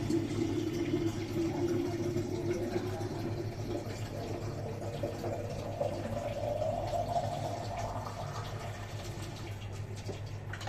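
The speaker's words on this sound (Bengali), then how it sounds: "জলের বোতলগুলি ভরে নিচ্ছি" Water pours steadily into water bottles in a home kitchen, a continuous gurgling fill whose pitch rises as each bottle fills, close and moderately quiet, with no talking.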